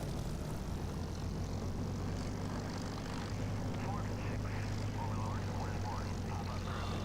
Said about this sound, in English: So I'll take off on the taxiway because I know that they're directly ahead of me.